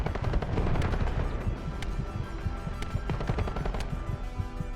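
Dense, rapid bursts of secondary-weapon gunfire in a sniper-build shooter video game, loud and continuous with sharp repeated cracks over a rumbling low-end battle din.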